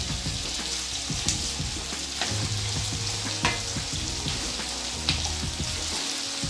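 Onion rings stirred and fried in a pan until the rings separate, for a curd and onion dish, producing a dense, steady sizzle with repeated scraping stirs close up and no talking.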